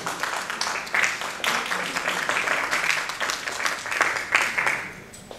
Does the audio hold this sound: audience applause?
yes